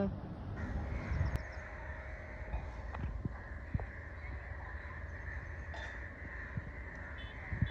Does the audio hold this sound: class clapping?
no